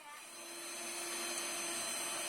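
An electric hand mixer works a soft donut dough at 58% hydration, giving a steady whirring motor drone that builds slightly and holds level.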